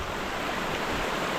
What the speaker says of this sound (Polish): Kolejny wodospad.